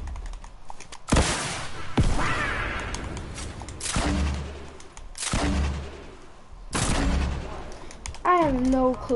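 Scattered shots and building clatter in a shooter game, a few sharp, loud bursts spaced a second or two apart with a short voice-like tone near the end.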